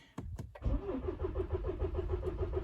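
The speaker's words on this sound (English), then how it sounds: "you hear that it's trying to crank itself, and I believe it's pumping that fuel filter full, and there we go, it made it" A Toyota RAV4 engine with a fresh fuel filter cranks in a couple of sharp bursts, then catches and settles into a steady, rhythmic idle, heard close with no talking.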